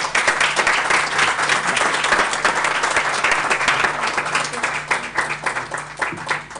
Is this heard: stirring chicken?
no